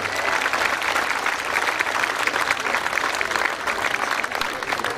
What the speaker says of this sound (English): If we could ask for one more round of applause though for the retiring piper Glenn Cunningham, and for our new piper Billy Spalding.